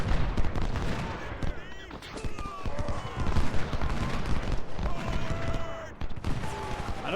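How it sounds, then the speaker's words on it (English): Artillery batteries firing in the Civil War strategy game Ultimate General: Civil War, a dense, continuous barrage of overlapping gunfire and cannon reports at steady loudness throughout. "so that the other batteries keep firing"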